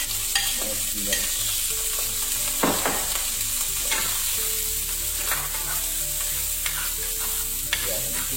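Garlic and onions sauté in a pan with a constant bright sizzle and periodic scraping strokes of a spoon stirring them, close and with no talk.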